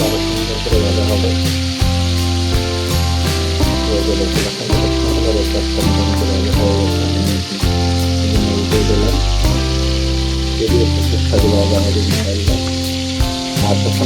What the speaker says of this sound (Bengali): উল্টাইয়ে দিলে হয়তো এই পাঁচটা আরো সুন্দর করে ভাজা হবে।